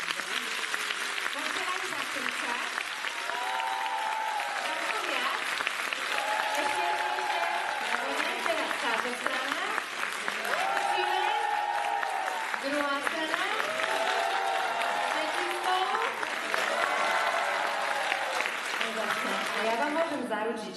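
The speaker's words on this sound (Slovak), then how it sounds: "Skúste dať ten najväčší potlesk." An audience at a Mother's Day event claps in sustained, loud applause that swells and continues for about twenty seconds, with cheering voices and chatter running through it.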